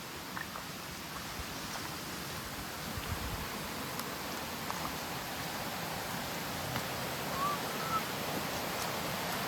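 Herali waterfall near Murdeshwar, a steady, faint broadband rush of falling water heard at some distance, unchanging throughout.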